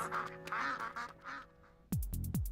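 Ducks quacking as cheering mascots at a race, a few loud nasal quacks bursting in near the end after a stretch of whistly, music-like sounds, close and clear.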